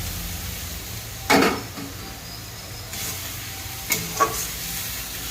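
Chopped onions with ginger-cumin paste and chopped tomato fry in a pan, a soft low sizzle broken by a few sharp stirring clatters and bursts, no voices.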